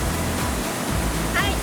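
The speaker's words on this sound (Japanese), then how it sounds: "ゆうきさんは今回の撮影で初めて等々力滝に来たんですけど、すごい迫力もあるし水しぶきがすごい涼しくて楽しい撮影でした。" Todoroki Falls in Tokushima, Japan, a large waterfall roaring as a steady, dense wash of rushing water heard close up, a continuous broadband rumble without pauses.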